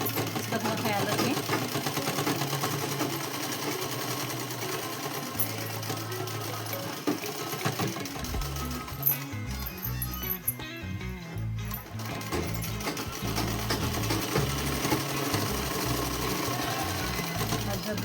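Sewing machine stitching a silk dress, running in steady rapid bursts with a pause partway through, its motor drone close and prominent under intermittent talk.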